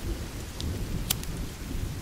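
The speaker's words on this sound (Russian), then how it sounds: "Дождь пошел." Rain falls steadily in the survival game The Forest, a dense hiss with a low, rolling thunder rumble beneath and a few sharp drop-like ticks, with no voices.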